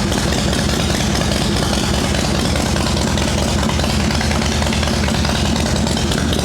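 Harley Shovelhead chopper motorcycle engine idling, a loud steady close-up rumble with a rough, even pulse throughout and no pauses.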